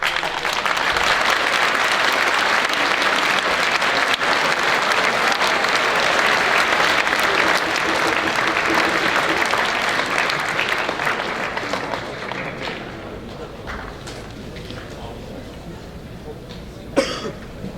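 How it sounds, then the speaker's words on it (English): A long round of applause at a Stó:lō honouring ceremony; steady crowd clapping fills the room for over ten seconds before thinning out, followed by scattered coughs and throat clearing in the quieter tail. "though we typically don't do rounds of applause in Stalo ceremonies, I think this would be a great time"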